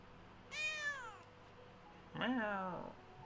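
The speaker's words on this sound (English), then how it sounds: "Meow." A cat in the video game Potion Permit gives two distinct meows about a second apart, the second lower and more drawn out, close and clear against a quiet background.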